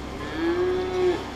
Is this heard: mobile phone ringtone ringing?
no